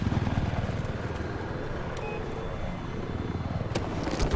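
In a multiplayer military shooter video game match, a helicopter's pulsing rotor thump and engine drone fill the scene continuously and loudly, with a few sharp clicks and a brief high tone over it.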